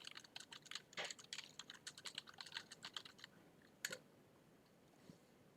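Quick, uneven clatter of keystrokes on a computer keyboard, faint and close, with a dense run of taps followed by a louder isolated key press and then quieter scattered clicks.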